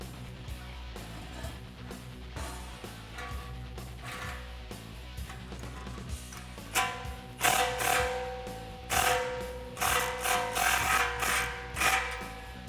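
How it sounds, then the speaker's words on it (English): Ratchet and 15 mm socket tightening an exhaust clamp on a 2018-2020 Mustang GT Borla cat-back system, quiet clicking that turns into louder metallic clanks and rattles in the second half, with no talk. "Grab your 15 socket again, and tighten down this clamp."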